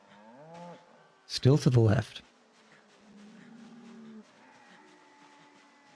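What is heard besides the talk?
cow mooing in video game Project Zomboid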